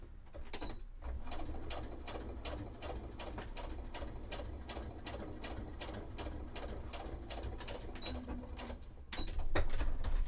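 A sewing machine top stitching a cosplay shirt: a fast, steady mechanical chatter of needle strokes running close and continuous for several seconds, briefly louder near the end, with no talking.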